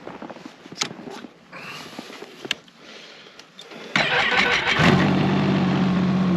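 A vehicle engine starting up on a frozen lake during an ice fishing camping trip, with several quiet clicks and clatters before it cranks and catches, then settling into a loud steady idle close by.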